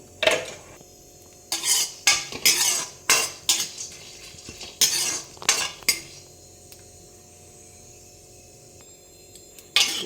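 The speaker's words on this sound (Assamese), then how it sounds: "এতিয়া মই ৰঙালাওৰ গুটিখিনি অকণমান ৰ'ষ্ট কৰি ল'ম।" Pumpkin seeds roast in a hot wok, with a run of close, sharp metallic scrapes and clinks as they are stirred, followed by a quieter stretch with no talking.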